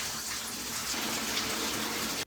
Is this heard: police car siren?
no